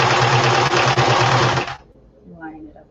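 A sewing machine runs in a loud, rapid, even burst for about a second and a half while felt pieces are stitched together, then stops. A faint voice follows in the quiet.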